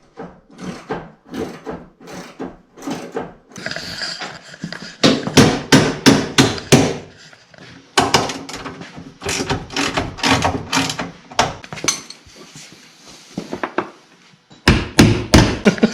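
A hammer pounds a socket onto a manifold bolt on a 7.3 Powerstroke engine in repeated sharp metallic blows, delivered in fast bursts with short pauses, close and loud.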